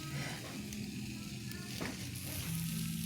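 Tilapia frying in a pan outdoors beside a river gives a steady, soft, continuous sizzle, with faint background voices and noise.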